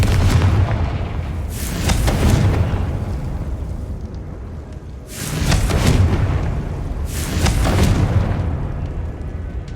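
Confringo spell blasts go off in Hogwarts Legacy: three loud booming explosions about two to three seconds apart, each rolling off into a rumble, with no talking over them.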